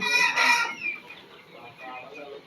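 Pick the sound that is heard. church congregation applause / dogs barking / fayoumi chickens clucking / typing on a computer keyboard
fayoumi chickens clucking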